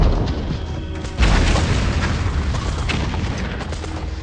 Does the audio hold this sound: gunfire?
yes